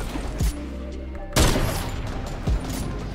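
Gunfire in Fortnite: three separate sharp shots, with the middle one loudest, spaced about a second apart over game background sound.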